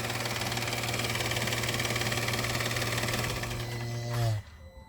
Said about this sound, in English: There's definitely something whirring.